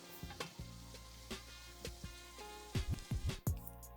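Chicken thighs frying in a pan sizzle softly while a utensil stirs them, with a few scraping knocks and quick clatters near the end.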